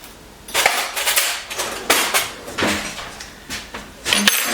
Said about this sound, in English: I'm just going to go ahead and whisk this up, with a fork.